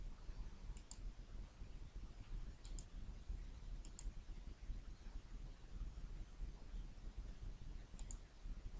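Computer mouse clicks in a quiet room, a few sharp light double clicks spaced seconds apart over faint background hiss, no talking.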